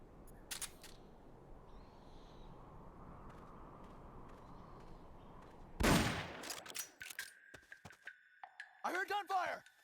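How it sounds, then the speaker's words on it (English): Gunfire from the Metal Gear Solid: Peace Walker video game bursts in as a sudden loud crack and flurry of shots after a stretch of steady background ambience, followed by scattered impacts and brief game sound effects. "I heard gunfire!"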